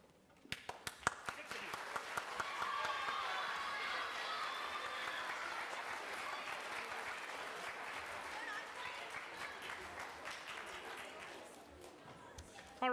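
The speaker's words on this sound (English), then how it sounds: "If you played the solo at the very beginning, would you please stand and accept applause?" Applause at a grade 6–8 fall orchestra school concert, given to the opening soloists as they stand. The clapping swells quickly into sustained audience applause and holds for several seconds before it thins toward the end.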